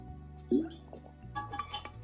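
Water is drunk from a Star Wars mug: a soft clink of the mug is followed by faint liquid sipping and swallowing sounds, close and quiet.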